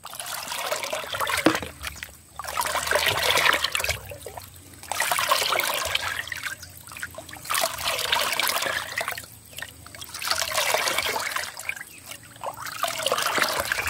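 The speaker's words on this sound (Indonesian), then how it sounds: "kita campur dengan air 20 liter selanjutnya kita aduk sampai rata ya kita aduk" Liquid goat urine fertilizer being stirred into 20 liters of water, a steady trickling, sloshing wash that swells and fades in repeated waves, close by with no talk.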